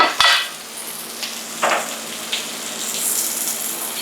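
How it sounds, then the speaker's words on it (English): Pork sisig sizzles in a pan while being stirred, with a steady frying hiss and a few sharp scrapes and clinks of a utensil against the pan, heard up close and without talk. "mix them around so that the rest will get nice and crispy"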